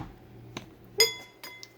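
A spoon stirs chicken egg noodles in a Fissler Souspreme multi pot, giving a few sharp metallic clinks spaced across a short quiet moment.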